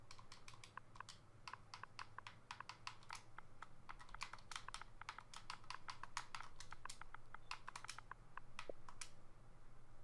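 Rapid typing on a computer keyboard while entering admin commands in ARK: a steady stream of crisp, close key clicks in quick irregular bursts, with no voice over them.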